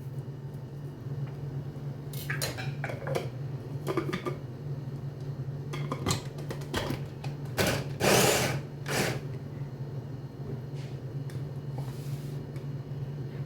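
A food processor chopping onion whirs in short mechanical bursts, with a grinding clatter over a steady low motor hum, fairly close.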